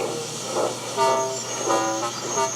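Gordon, a big steam locomotive, puffs away in a few short, rhythmic bursts with bright whistling tones layered over the chuffs, close and fairly loud with no voices.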